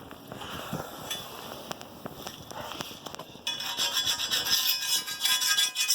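Sandpaper rubbing over the split locking ring of a 1952 military deuce-and-a-half truck wheel, steady rasping scrapes that grow louder and brighter halfway through, close and without talk.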